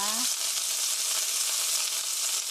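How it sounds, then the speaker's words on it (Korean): Chicken pieces sizzle steadily in a hot pan as they fry to golden brown, a dense, even crackle held at close range for the whole stretch, with a brief voice at the very start. "5분간 구웠더니 이렇게 노릇노릇하게 잘 구워졌습니다"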